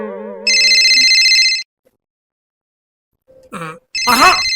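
A mobile phone rings in the middle of a meeting, a loud repeating ringtone with steady tonal bursts, followed by brief voices talking.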